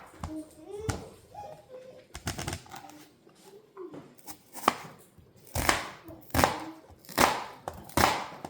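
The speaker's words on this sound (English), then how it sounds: "after a very tearful, rough chop of these onions" Onions being roughly chopped on a board, a series of sharp knife thuds, sparse at first, then louder and quicker in a steady run, with some quiet talk and a voice early on.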